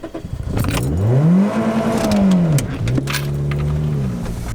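A Toyota Corolla engine revving hard at full throttle, loud and close, its pitch climbing, holding, then dropping before a second rise, with a faint jingle of keys alongside.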